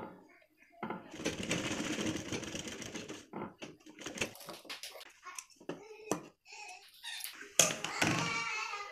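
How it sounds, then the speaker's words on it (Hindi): A sewing machine stitches cloth for a flower latkan decoration, its rapid mechanical rattle running in close bursts separated by short pauses, with a person speaking around the stitching. "यहाँ पे बैठाने के बाद यहाँ पे बराबर सिलाई लगा लेना है।"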